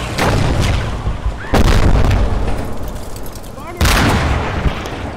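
Mortar rounds land in the Gates of Hell war game as three heavy, booming blasts spaced a couple of seconds apart, with rumbling battle noise between them.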